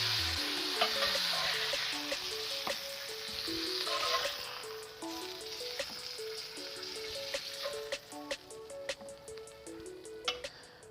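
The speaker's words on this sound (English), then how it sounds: "you can see we're getting a good little sear on the back side of it" Steak sears in a hot pan with a steady crackling sizzle and fine spitting pops, while light clicks and taps of a utensil come through near the end.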